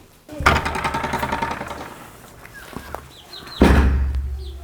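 Chickens cluck inside a coop amid loud rustling and shuffling close by, and a heavy bang like a door closing near the end.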